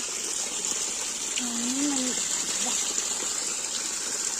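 Rainwater pours down at home like a small waterfall, a steady loud gush of falling water filling the whole stretch, with a brief voice-like tone rising over it midway.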